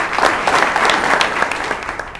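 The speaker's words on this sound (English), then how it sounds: "let's give a round of applause for Charlie Garza" Audience applause at a news conference honoring a graduate breaks out as a loud, close wash of many hands clapping, steady throughout the short stretch.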